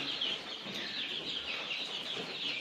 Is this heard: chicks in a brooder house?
yes